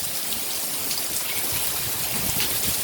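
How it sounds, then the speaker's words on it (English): Strong rain from Tropical Storm Isaias pours down as it comes ashore in North Carolina, a loud, dense, unbroken hiss of rainfall close by. "the rain is real strong"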